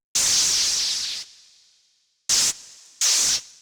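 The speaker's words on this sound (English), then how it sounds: "distortion on a white noise" Distorted white noise drenched in plate reverb from an LMMS trance project: a long hissing burst that decays into a reverb tail, followed by two short, loud noise bursts, the last sweeping downward as it ends.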